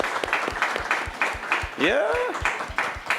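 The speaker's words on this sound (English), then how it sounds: "Let's give a round of applause for these guys." Steady, evenly spaced claps from an audience at a panel talk about local artists, beating in a regular rhythm while a voice calls out briefly in the middle.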